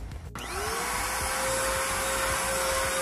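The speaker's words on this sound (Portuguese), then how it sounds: "Agora nós vamos aspirar." A vacuum cleaner starts up and runs steadily with a loud, continuous whine while vacuuming the floor of a Toyota Etios car interior, close and alone without talk.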